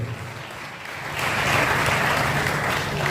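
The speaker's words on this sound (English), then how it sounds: "Can you please applaud him?" Audience applause at the official commissioning of a technical college, starting softly and then swelling into a steady, dense round of clapping that holds for a couple of seconds.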